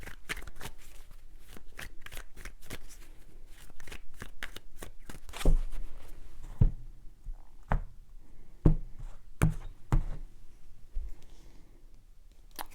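Tarot cards are shuffled by hand in quick papery riffles and flicks, then a few sharper taps and clicks as the deck is knocked together, close and quiet with no talking.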